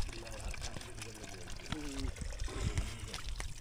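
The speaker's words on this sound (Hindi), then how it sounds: "तो यहाँ मुंह धोते हैं अपनी, पकड़ दे एक बार ऐसा पानी," Spring water pours and splashes at an outdoor source as someone washes their face, a continuous close trickle mixed with voices talking nearby.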